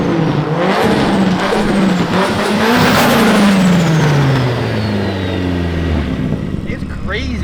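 A fully built Nissan 180SX (S13) with an SR engine revs hard and loud up close, pitch climbing then falling away as it drives off, a continuous raspy engine roar filling the whole stretch.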